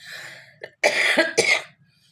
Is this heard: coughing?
yes